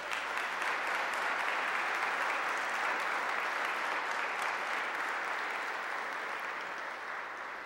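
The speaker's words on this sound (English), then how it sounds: "Please give yourselves a round of applause." A large congregation applauds at a gathering addressed by Minister Louis Farrakhan, a thick, continuous roar of clapping that holds steady and loud for several seconds before easing slightly.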